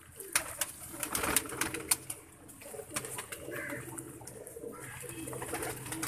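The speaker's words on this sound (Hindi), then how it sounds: "इनमें बहुत से कबूतर आपको फ्रेश मिलेंगे" Pigeons cooing in a pigeon keeper's collection, soft low repeated coos close by with a few sharper bird calls and light fluttering, quiet overall.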